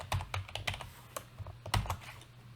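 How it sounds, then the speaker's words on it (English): Fingers typing on a computer keyboard, a short burst of uneven clicks and key thumps close by, with no one talking. "I'll just type it in so you see what happens."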